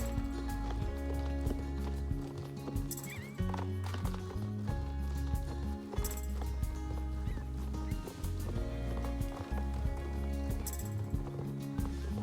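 Horse hooves clip-clopping in Star Stable Online, a steady rhythmic trot with occasional neighs, set under looping game music with a shimmering chime now and then.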